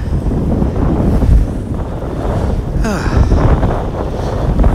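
Heavy wind buffets the microphone outdoors in Lower Manhattan, a steady loud rumbling roar that continues the whole time with no break.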